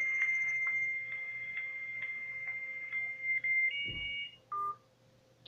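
A steady electronic telephone tone sounds while calling number 1000, with faint regular ticks underneath, then it shifts pitch and cuts off into short beeps before quiet.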